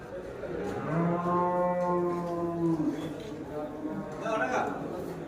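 Cattle at a village market in Vaniyambadi give a long, loud, nearby moo that swells and then fades, with market murmur and voices in the background.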